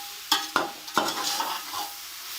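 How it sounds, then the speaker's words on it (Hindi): Grated radish frying in a pan and being stirred, with a steady sizzle broken by three or four sharp scraping stir strokes near the start. No voices. "मूलियाँ फ्राई हो गई हैं।"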